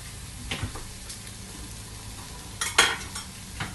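Onions sizzle in hot oil with a steady frying hiss, broken by a few scraping stirs of a utensil in the pan, close by.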